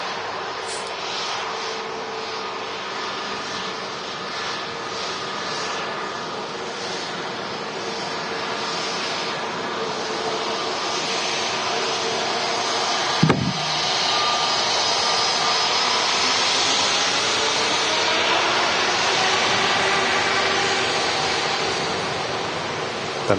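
An Airbus A330neo jet taxis out at Manchester Airport, its engines giving a steady, loud broadband whine and roar that holds throughout with a slight swell later, plus a brief knock partway.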